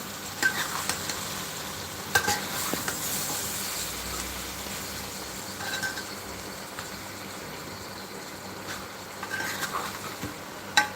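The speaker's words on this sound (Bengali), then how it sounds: "আবার একটু তরকারি নাড়াচাড়া করি" Curry stirred in a pan, a low steady sizzle broken by occasional scrapes and knocks of the spoon at irregular intervals, fairly close and moderately quiet, no talking.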